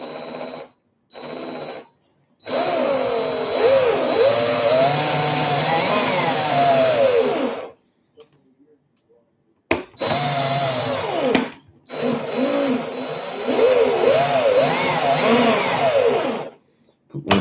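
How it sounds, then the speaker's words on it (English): A loud electric drill whirring at high speed in several long bursts, its pitch wavering as it works, with short pauses between runs. "Put my drill on fast."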